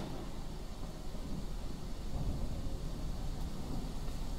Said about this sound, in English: Oh my gosh, the rain!